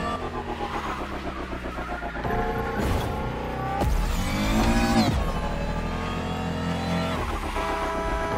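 Renault Trezor electric concept car racing along Waikiki Beach in The Crew Motorfest, its synthetic engine whine rising and falling in pitch as it accelerates, loud and steady throughout with no talking.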